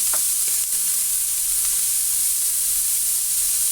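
Bihon rice noodles fry in a pan with a loud, steady, close hiss and sizzle, broken by a few faint clinks, and no voices.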